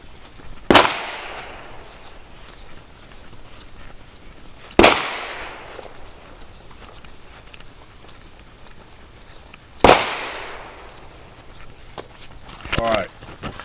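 Three sharp AR-15 rifle shots, fired through a fake suppressor on a quick change muzzle adapter, crack out alone at roughly even four-to-five-second intervals, each loud report trailing off into a brief outdoor echo.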